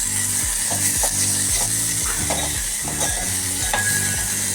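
Onions softening in a pan, frying steadily under a constant loud sizzle while a spoon stirs with regular scraping strokes, alongside a repeating mechanical whirring pattern throughout.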